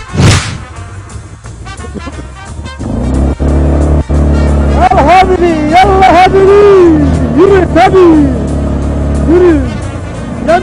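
A motorcycle whooshes by and revs loudly near the start, and its engine keeps running under lively voices for the rest of the stretch.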